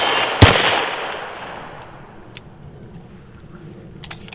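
A single sharp shot from a Beretta M9 9mm pistol fired outdoors at a target, loud and close, followed by a long fading echo and faint background noise.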